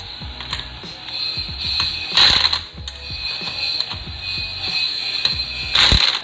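Hand ratchet tightening wheel lug bolts, a close series of quick clicking pawl strokes in bursts, with louder metallic clanks as each bolt seats and the tool shifts.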